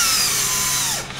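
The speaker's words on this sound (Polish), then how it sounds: "Najpierw sobie zaznaczę otwory wiertłem." Power drill whirring steadily while marking hinge screw holes in a cabinet door for a camper van build, close and continuous, winding down at the end.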